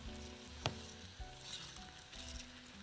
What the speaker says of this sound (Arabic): شوحناهم الأول مع اللحمة، وبعدين نزلنا البصل، وبعدين نزلنا دلوقتي الرز